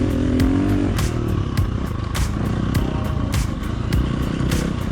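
A motorcycle fitted with a Tokyo Mods Vortex ECU, engine braking as it slows, gives a steady low engine drone with repeated sharp clattering pops and ticks over the whole stretch.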